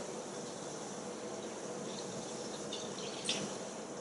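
Lukewarm water trickling into a sauce in a kitchen, a soft continuous pouring hiss at low level with a faint clink near the end.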